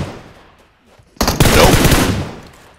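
Automatic gunfire from PUBG Mobile breaks the quiet in a loud, rapid burst that lasts over a second and then fades out.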